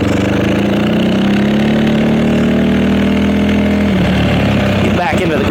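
A manual car's engine hums steadily at idle as the car rolls to a stop without brakes, a loud close drone that shifts pitch and rattles near the end, with someone talking over it.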